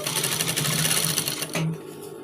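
A sewing machine stitches round a native cap, a fast, steady mechanical whirring at close range that stops abruptly near the end.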